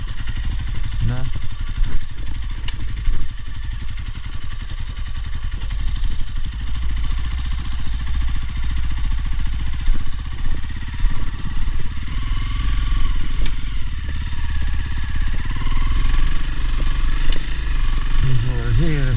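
Motorcycle engine on a Latvian trail ride through forest, beaches and mud, a steady loud droning rev throughout, with speech over it.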